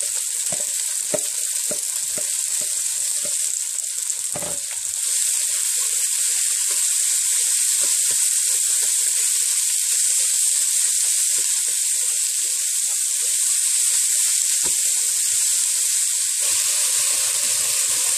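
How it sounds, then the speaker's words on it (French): Green onions and scallions with their stalks fry in a pan, a loud, constant close sizzle with occasional stirring knocks, and no talking. "Je fais revenir les oignons verts, les cébettes, avec les queues de suite."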